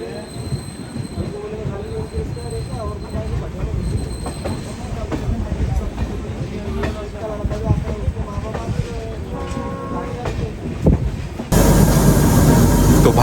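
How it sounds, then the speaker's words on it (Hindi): An Indian Railways train rumbles across the diamond railway crossing in Nagpur, with steady wheel noise, rattling cars and squealing wheels running throughout, closing with a louder, denser burst of rolling-stock noise. "ये है पूरे एशिया का एकमात्र डायमंड क्रॉसिंग जो कि नागपुर में सिचुएटेड है"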